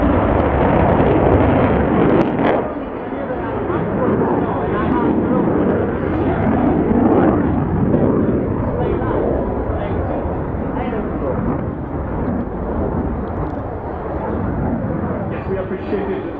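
Military jet aircraft manoeuvring through a full lateral roll at an air show, a loud continuous roaring engine rumble that swells and fades, with a commentator talking over it.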